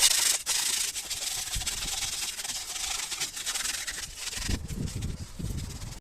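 Scrubbing away built-up gunk and dirt from the corner of an engine part on a Toyota Prius during a water pump and thermostat change, a steady close brushing rub with brief pauses.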